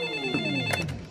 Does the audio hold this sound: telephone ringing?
yes